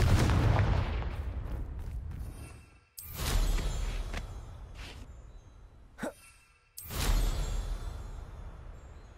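Confringo spell explosions in the video game Hogwarts Legacy: loud, broadband blasts at the start, near three seconds and near seven, each tailing off, with a short faint burst between them.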